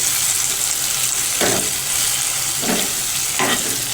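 Garlicky crushed chili paste sizzles steadily in a hot pan while being stirred for an eggplant curry, with a few louder scraping strokes of the spoon rising over the constant frying hiss.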